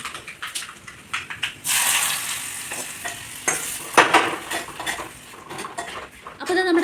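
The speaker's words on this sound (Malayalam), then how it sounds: "അപ്പോൾ കടുകിട്ടു, വറ്റൽമുളക്" Mustard seeds and dried red chilies dropped into hot oil for a pickle tempering burst into a loud crackling sizzle, broken by clinks of a metal spoon and pan and close spattering pops.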